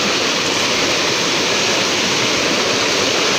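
Strong current of a clear mountain river rushing steadily, a loud, continuous broadband roar of water close by with no pauses.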